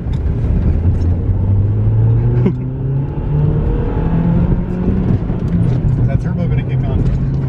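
Turbocharged car engine accelerating while driving, a loud in-cabin rising engine note that climbs, drops at a shift, then climbs again, with people talking over it.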